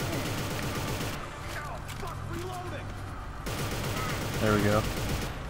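An enemy fires his gun in the third-person shooter Inversion: bursts of gunfire open the stretch, drop away into quieter game sounds, then return loud again near the end, while someone talks briefly.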